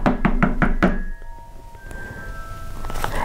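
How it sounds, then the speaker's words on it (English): Five firm, evenly spaced knocks strike a wooden door up close, followed by a quiet ringing tone and low room noise. "there came another knock on the door"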